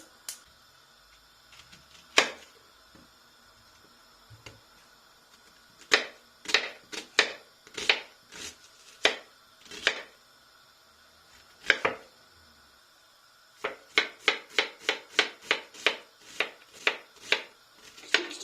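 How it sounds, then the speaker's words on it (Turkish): A knife chops onion on a cutting board while kısır is being made. The close, crisp chops come in irregular clusters, then in a quick, even run near the end. "Önce soğanımızı doğrayalım."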